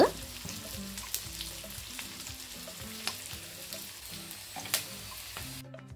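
Onions fry gently in a pan with a soft, steady sizzle and occasional sharper clicks and knocks from stirring, close and moderately quiet with no voices.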